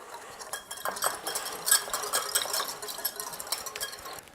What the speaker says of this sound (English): We're going to add them to a small mixing bowl. And just whisk to combine.